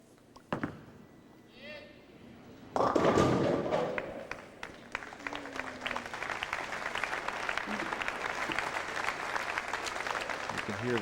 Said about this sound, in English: You can hear the crowd in the background giving Eric a round of applause